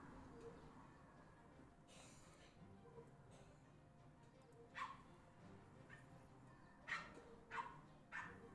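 A small dog yaps in short, sharp barks, a few scattered yips spaced out over the clip at moderate distance, with a quiet background hum and no talking.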